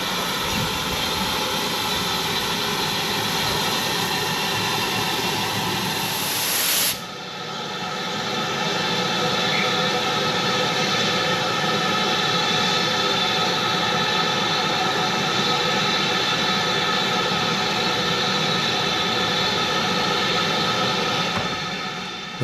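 A heritage steam train, locomotive 80151, stands at Horsted Keynes station on the Bluebell Railway. A loud, steady hiss and rumble fills the air, with an abrupt change in the hiss partway through, then a sustained mechanical roar continues alone.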